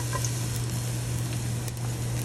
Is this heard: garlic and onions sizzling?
yes